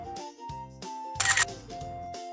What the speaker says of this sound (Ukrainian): Ще обов'язково я маю зробити фото.